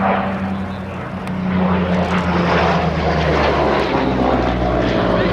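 A Supermarine Spitfire fighter flying in a turning dogfight with a Messerschmitt 109 Buchon, its propeller-driven piston engine giving a loud, steady drone that swells slightly as the plane pulls up, with no talk.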